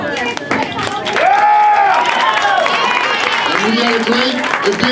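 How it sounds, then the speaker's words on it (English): A crowd at a wrestling event claps and cheers steadily while a loud voice speaks over the applause. "stand up and give yourselves a round of applause"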